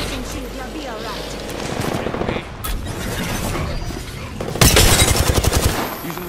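Gunfire in the video game Apex Legends: rapid automatic bursts throughout, growing into a loud heavy volley near the end, with voices talking underneath.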